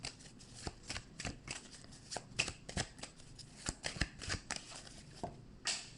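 Tarot cards are shuffled close by, a quiet run of rapid riffling bursts and soft card slaps spread across several seconds.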